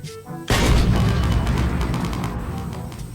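A 106mm recoilless rifle fires in a military roleplay video game, one sudden loud boom after a brief quiet moment, followed by a long rumbling decay and echo with no talking.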